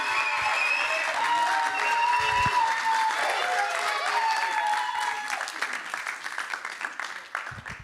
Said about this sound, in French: s'il vous plaît, un tonnerre d'applaudissements pour Brandy